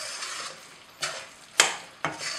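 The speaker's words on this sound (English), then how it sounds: "So now we need to make sure we stir this around" Carrot halwa being stirred in a pan over low flame: soft frying hiss broken by three distinct scraping strokes of a spoon against the pan, close and clear, with no speech.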